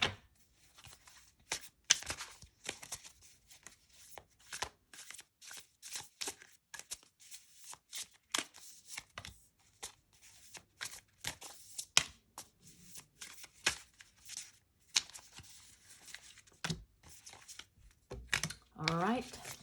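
Tarot cards are shuffled by hand in repeated quick riffling bursts, close and crisp, with a voice talking at times between them.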